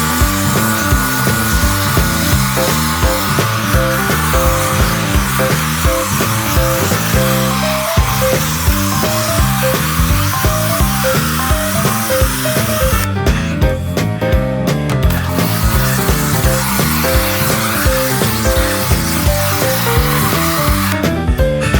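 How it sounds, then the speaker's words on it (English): A pressure washer sprays snow foam over a classic MGB car, a loud continuous rushing hiss with rhythmic pulsing from the pump, briefly cutting off and resuming near the end. "And now we'll cover the whole car with snow foam."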